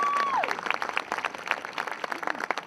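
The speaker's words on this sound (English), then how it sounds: "Give her a round of applause." A rally crowd at a state capitol applauds, scattered claps and some cheering coming through unevenly, with a brief tone at the start and a little background talk.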